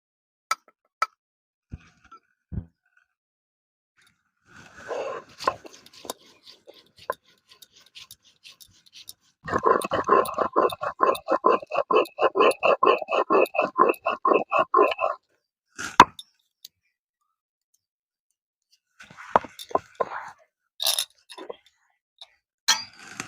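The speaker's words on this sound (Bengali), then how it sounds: "সরিষা নিয়েছি আর একটু পোস্ত নিয়েছি, বেটে নেব" Mustard seeds and a little poppy seed are ground into a paste with steady, rhythmic rasping strokes that build to a dense run midway, framed by scattered light taps and quieter rubbing.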